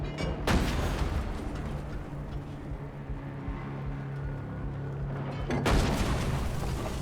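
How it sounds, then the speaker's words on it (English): A tank fires in the game REANIMAL: a heavy, booming cannon blast opens, followed by a long low rumble and drone, then a second powerful blast near the end, loud and close. "We're actually fighting a tank."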